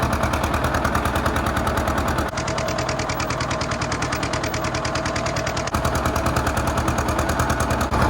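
A tractor drags a disc over loose dirt to smooth out skid steer tracks during spring farm work in Missouri. Its engine gives a loud, rapid, steady chugging pulse close by, without any speech.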